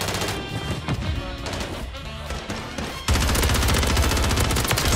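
Rapid bursts of automatic gunfire and explosions erupt in Call of Duty Warzone on Rebirth Island, dense and loud, with a sustained barrage of fast shots in the second half and excited players talking underneath.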